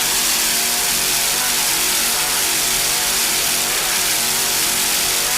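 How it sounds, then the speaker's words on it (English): A 32-foot offshore racing boat powered by two 650 hp Bandit racing inboard engines thunders past at full throttle during the 1997 Compaq Offshore Challenge, giving a loud, dense, continuous engine roar with no pauses. "Just listen to those engines."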